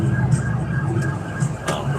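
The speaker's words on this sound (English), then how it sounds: "Got some emergency vehicles going by in the other direction." Emergency vehicle sirens pass in the opposite direction on a city road at night in Atlanta, a wailing tone heard over steady traffic and engine rumble, moderately distant and brief.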